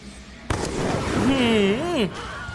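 A sharp explosive burst opens the sequence in a Free Fire match, followed by sustained rumbling blast noise while a voice talks and wails over it.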